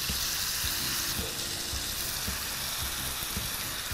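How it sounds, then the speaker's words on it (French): Tandoori-marinated chicken pieces fry in a pan with a steady, dense sizzle and crackle, close and continuous, with faint stirring scrapes and no voices. "je fais revenir"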